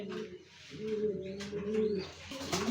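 Racing pigeons cooing nearby in low, throaty rolling calls, a few overlapping, with faint chirps and ambient noise around them.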